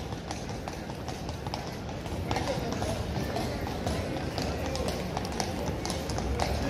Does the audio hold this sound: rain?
no